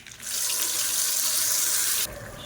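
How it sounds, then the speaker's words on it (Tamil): Tap water runs steadily into a mixer grinder jar as it is rinsed in a kitchen while cooking millet adai dosa, a continuous close splashing rush lasting about two seconds before cutting to a quieter trickle. "இப்போ மிக்ஸியை அலசிட்டு இந்த தண்ணியை சேர்த்துக்கலாம்."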